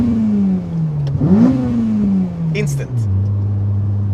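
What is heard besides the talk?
car engine revving on throttle blip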